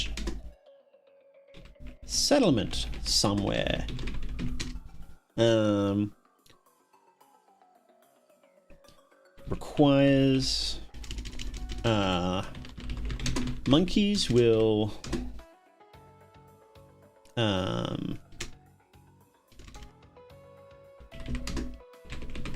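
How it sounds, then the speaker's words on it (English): A tribe of monkeys mashes the keys of typewriters at random, producing bursts of clattering keystrokes that alternate with someone talking over them. "spend most of their time writing on the typewriters"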